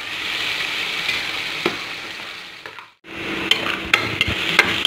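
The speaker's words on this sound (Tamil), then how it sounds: "பாருங்கள் இந்தளவு வந்து நல்லா வந்து வெங்காயம் வந்து வதங்கி இருக்கணும்." Onions sauté in a pan for mushroom biryani, a close bright sizzle broken by spatula taps and scrapes, briefly dipping to near silence at the midpoint before the frying hiss returns with sharper clicks.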